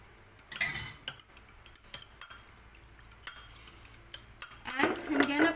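A spoon mixes chocolate oatmeal cookie batter in a bowl at home, giving scattered clinks and scrapes against the bowl in irregular bursts, with people talking nearby.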